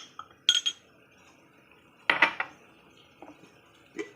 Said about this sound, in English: Have to stir.